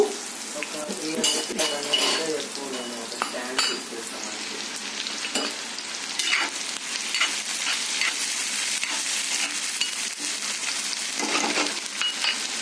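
Curry leaves fry in a pan with an ongoing crackling sizzle, broken by clinks and scrapes of a spoon stirring against the metal, moderately loud and close throughout.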